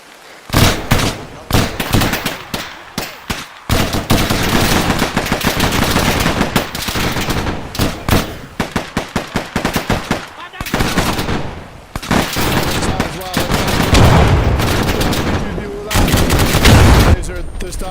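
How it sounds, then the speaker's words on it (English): Sustained heavy gunfire close by, rapid automatic bursts and loud cracks packed densely, with brief pauses between volleys over a long stretch. "We're taking heavy fire and explosions here."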